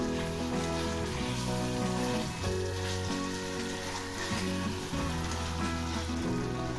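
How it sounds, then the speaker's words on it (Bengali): Cauliflower fries in spice masala with a dense, continuous sizzle that stays loud and close while it is stirred, and no one talks. "এবার আমি এর মধ্যে কপিগুলো দিয়ে দিলাম, আবার একটু নেড়ে দিচ্ছি"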